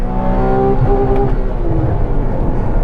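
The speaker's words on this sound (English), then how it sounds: "Luckily, it didn't downshift, it just hit the limiter." Porsche Cayman GTS (981) engine with PDK gearbox held at the rev limiter on a race track, a loud, steady high-pitched drone with stacked harmonics that barely changes pitch, close and continuous with no talk.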